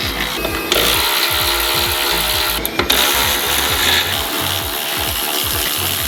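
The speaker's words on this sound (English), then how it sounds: "So, got some bolts to waz out here." A ratchet wrench undoing the exhaust bracing bolts on an AMG GT build, steady rapid clicking of the pawl over a constant loud mechanical hum, close up, with no speech.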